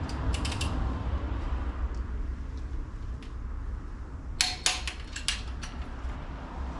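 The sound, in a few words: wrench torquing Cadillac Northstar cylinder head bolts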